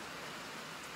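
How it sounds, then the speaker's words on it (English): Steady rain falls outside a barn, a dense, even hiss of drops on surfaces, soft and continuous with no voices. "still raining, as you might be able to hear"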